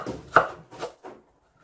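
Unpeeled green mango being cut with a knife, three or four quick chopping strokes close up, then a moment of quiet.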